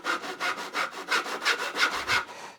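A hand saw cuts through a wooden board in steady rhythmic strokes, about a dozen rasping back-and-forth pulls close up.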